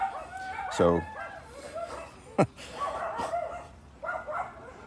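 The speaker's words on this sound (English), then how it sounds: "neighbors' dogs are going crazy" Neighbors' dogs bark and yip at a distance outdoors in a garden, in scattered bursts, while someone speaks briefly over them and a sharp knock sounds nearby.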